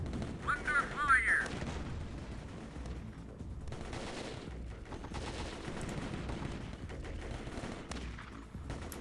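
Bursts of gunfire from the video game Warfare rattle through a dense, noisy battle soundscape, with a brief high whine early on and steady loud clatter throughout, partly under a speaking voice.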